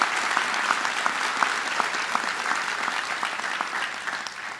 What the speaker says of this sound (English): Let's give Rebecca a big round of applause.